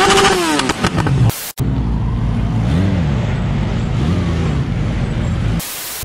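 A motorcycle rides around outdoors at a music video shoot, its engine a loud, steady drone with rising and falling revs, briefly cut off by a gap and ending quieter.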